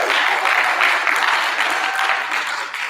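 Students and parents cheer and applaud at a fourth-grade awards assembly, a dense, steady wash of clapping and shouts that stays loud throughout and tapers slightly near the end.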